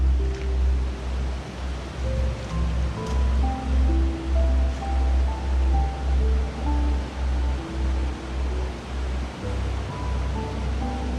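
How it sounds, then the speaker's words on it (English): Steady rushing floodwater in Swan Park, Buncrana, roars continuously nearby, a dense wash of noise with a gentle pulsing swell and no voices. "Water came down!"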